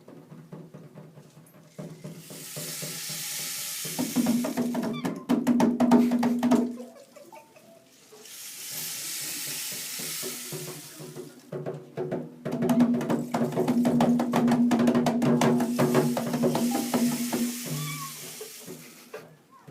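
Children's voices imitate a cat with drawn-out meowing wails in two loud bursts separated by a pause, over clattering background noise.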